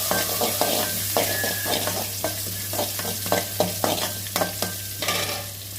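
Garlic, green chilli and curry leaves sizzle in a hot pan, with a steady frying hiss broken by repeated scraping stirs of a spatula at an uneven rhythm, close and clear.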